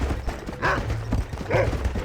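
Horse hooves in Red Dead Redemption give a short run of clip-clop beats, close and moderately loud, mixed with game sounds and a brief voice-like call.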